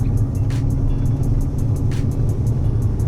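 Ford Foxbody Mustang with an 8.8 rear end cruising in third gear at about 30 mph, near 2,000 RPM, heard from inside as a steady, continuous low engine and road rumble with no speech.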